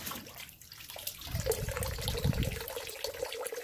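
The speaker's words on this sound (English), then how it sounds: "We'll make sure that the hose is still trickling." Water trickling through a garden hose left running so it does not freeze, a soft continuous splashing and gurgling that is fairly quiet, with no voices.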